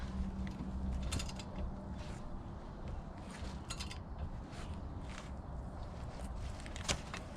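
Tightening a part with a ratchet during a rear brake and rotor change on a 1997 Cadillac Seville SLS, faint clicking and creaking mechanical sounds in quick bursts.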